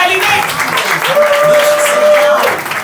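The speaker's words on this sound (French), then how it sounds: "On commence à l'applaudir" Audience applause at a Montreal comedy show welcomes a comedian to the stage, a steady wash of clapping lasting about three seconds at fairly even loudness, with a voice speaking over it.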